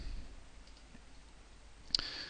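A single quiet, sharp computer mouse click, close and isolated against a faint background hiss.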